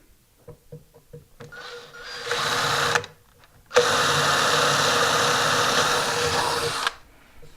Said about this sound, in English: I'm going to go ahead and drill a couple holes